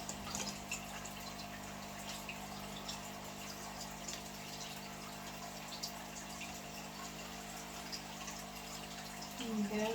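Aquarium filter circulating water in a 40-litre fish tank, a steady, even hum with a faint trickle running the whole time, no distinct events, close and moderately quiet.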